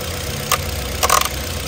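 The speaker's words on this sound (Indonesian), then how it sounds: "Suara mesin halus, standar normal, tidak ada suara-suara kasar." A steady, low car engine hum idles evenly and smoothly with no rough noises, with a couple of brief hissing bursts over the smooth drone.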